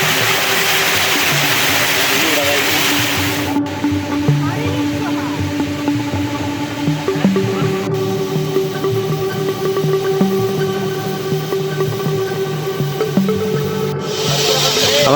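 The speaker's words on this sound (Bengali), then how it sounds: "এটা হচ্ছে আমাদের প্রথম ঝর্ণা। আশা করি সাউন্ড শুনতে পাচ্ছেন।" Napittachhara waterfall in Bangladesh roars as a dense, steady rush of falling water heard up close at the foot of the falls, with a few brief cuts and faint background sounds under the continuous spray.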